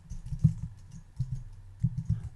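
Light clicking keystrokes on a computer keyboard while entering a web address, a short irregular burst of taps close by, with no speech.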